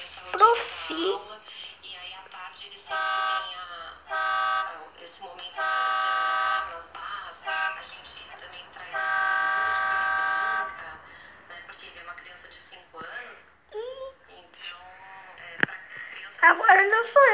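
A vehicle horn honks in several long, loud blasts, with people talking between and around them.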